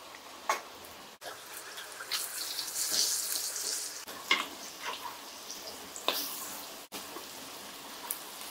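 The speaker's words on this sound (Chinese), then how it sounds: "现在就拿油来煎" Chili-powder-coated pieces of cured fish fry in oil, giving a soft, fairly quiet crackling sizzle up close, with a few brief louder pops and sputters.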